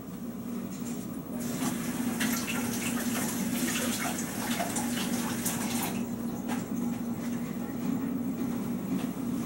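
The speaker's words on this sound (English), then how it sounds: "let me go ahead and rinse this off" Vape atomizer parts are rinsed under running water, producing a steady close hiss of flowing tap water throughout with occasional faint clinks, while a voice speaks softly at times.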